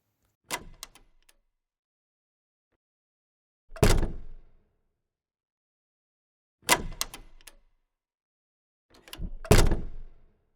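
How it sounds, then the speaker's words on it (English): A car door being opened gives four separate clunks and thuds, each brief and fairly close, spaced a few seconds apart in otherwise quiet surroundings. "May I open the door for you?"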